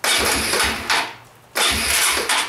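Small engine on a new pressure washer being cranked with a two-stage choke, two pull-start attempts that each sputter into a brief rough burst and then die, close and loud, with no talking.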